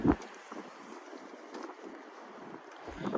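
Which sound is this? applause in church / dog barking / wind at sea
wind at sea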